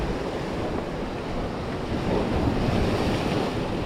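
Ocean waves wash onto the sea shore in a continuous low roar mixed with wind buffeting the microphone, growing slightly louder toward the end, with no voices.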